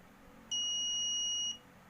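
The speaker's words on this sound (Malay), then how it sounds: "Buzzer akan berbunyi." A steady high-pitched electronic buzzer tone from an automatic whiteboard cleaner sounds alone for about one second against quiet background noise, then stops abruptly.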